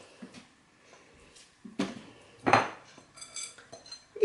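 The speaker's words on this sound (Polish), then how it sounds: "I teraz ser kruszymy i przekładamy." Cheese being crumbled and moved for a cheesecake, with scattered clinks of cutlery against a bowl and a few sharper scraping knocks, close and fairly quiet, with no talking.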